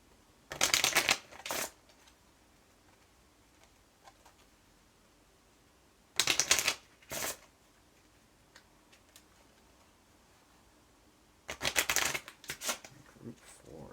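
Cards Against Humanity cards being shuffled in three separate quick riffling bursts, close and crisp, with quiet pauses between them.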